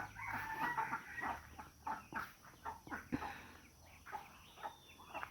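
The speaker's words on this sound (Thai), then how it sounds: "อันนี้คือเพิ่นไก่พันนะคะ" A small bantam chicken in a backyard garden crows and clucks in irregular bursts, fairly close, with faint outdoor background noise and no talk.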